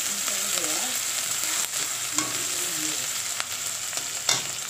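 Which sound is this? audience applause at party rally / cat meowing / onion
onion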